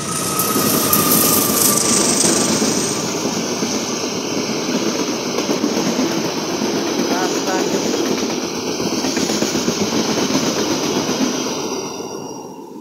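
An ordinary locomotive hauling the Sri Tanjung passenger train rumbles past at close range, a loud continuous roar with rail clatter lasting throughout, a brief high horn-like tone near the start.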